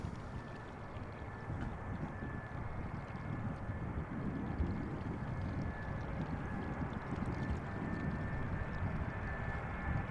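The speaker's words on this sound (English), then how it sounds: "Vueling flight A354, Airbus A320, touching down after 1 hour and 45 minutes of flight." A Vueling Airbus A320 airliner touches down at Amsterdam Schiphol, a continuous distant roar of engines and rushing air that swells gently and stays steady, with a faint high whine running through it.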